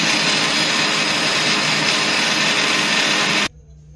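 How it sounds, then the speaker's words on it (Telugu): A kitchen mixer grinder blends tomato, tamarind and rock salt with a loud, continuous motor whir for about three and a half seconds before switching off abruptly into near quiet. "ఇప్పుడు మిక్సీకి పట్టుకుందాము."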